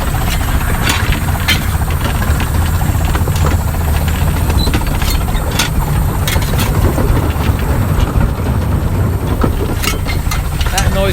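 Steam locomotive Northern Chief heard from the footplate while crossing a bridge, with a loud, dense rumble and repeated sharp clanks and knocks from the wheels, all continuous with no speech.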